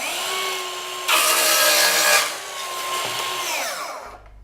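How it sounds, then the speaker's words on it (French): A Festool HKC 55 cordless circular saw whines at speed, roars louder as it cuts through a wooden board along a rail, then winds down to a stop. "Je pose la scie et je découpe la planche."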